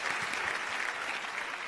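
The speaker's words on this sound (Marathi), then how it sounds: "यासाठी जोरदार टाळ्या झाल्याच पाहिजेत." Audience applause on a Marathi music reality stage show after a young contestant's lavani performance, a steady dense clapping at moderate-to-faint level throughout.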